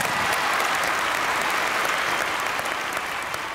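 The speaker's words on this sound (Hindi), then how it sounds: "जोरदार तालियां विपिन के लिए।" A burst of loud, steady applause from a studio audience at a Hindi TV game show, continuous throughout.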